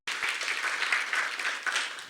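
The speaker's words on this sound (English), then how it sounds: "Can we please give him another round of applause?" Audience applause at a film expo: steady clapping from a crowd, sustained and fairly loud throughout, with no voices over it.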